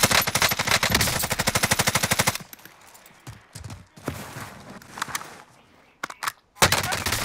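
Rapid automatic gunfire from Call of Duty Warzone in Verdansk, a loud, dense burst of fast shots for about two seconds, followed by scattered single shots and thuds, then another loud burst at the end.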